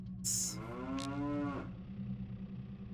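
A cow in The Legend of Zelda: Ocarina of Time gives one long, drawn-out moo from the game, heard clearly over a steady low musical hum and a brief bright chime near the start.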